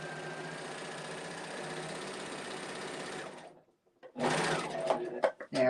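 A serger runs steadily, sewing a rolled edge, with a continuous mid-pitched whir for about three seconds. It stops briefly, then restarts in short, uneven bursts.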